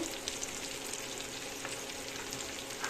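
Chopped carrot and red capsicum fry in a pan for egg soya noodles, a steady dense sizzle that stays even throughout at a moderate distance, with no talking.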